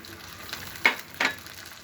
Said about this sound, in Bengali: পেঁয়াজটা প্রায় ভাজা হয়ে গিয়েছে। এখন আমি একটু করে পানি দিয়ে দিচ্ছি।